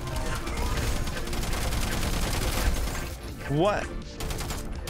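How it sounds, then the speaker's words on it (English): Many players fire at once in the arena shooter Diabotical: a dense, continuous barrage of shots and blasts, with a short whooshing sweep near the end and a man's brief exclamation over it. "Oh my God, there's so many people shooting at me!"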